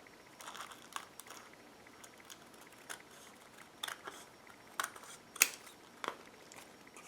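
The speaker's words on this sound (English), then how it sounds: "I'm just going to snip this off real quick." Scissors snip paper for a travelling collage in a series of quiet, sharp, irregular cuts, with soft rustling between them.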